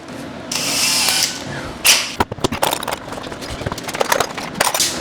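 A power drill boring into wood while building stairs whirs in two short close bursts, followed by a run of sharp clicks and knocks.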